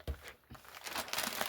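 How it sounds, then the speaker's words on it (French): Cross-stitch fabric being rolled up by hand, a close, soft crinkling and rustling that runs through most of the second and a half, growing a little busier toward the end. "je roulerai ma toile"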